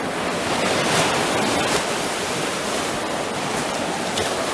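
Ocean waves wash onto a beach at night along a seafront with the tide coming in, a steady broadband surf roar that fills the whole stretch without pause, close and fairly loud with some wind on the microphone.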